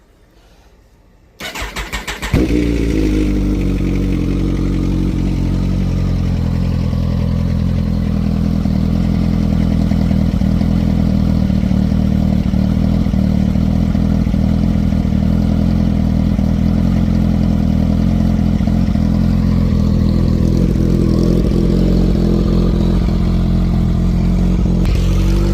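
A Kawasaki Ninja ZX14 sport motorcycle, fresh from a fuel pump and filter change, cranks briefly and then starts, settling into a loud, steady, close-up idle with a slight rev rise late on, with no talking.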